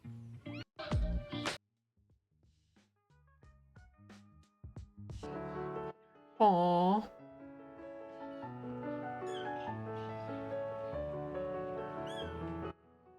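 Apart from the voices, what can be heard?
Bengal kittens meowing in a video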